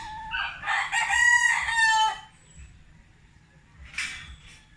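Rooster crowing loudly and close, with a long drawn-out call and then a shorter call after a pause. Chickens cluck faintly in between.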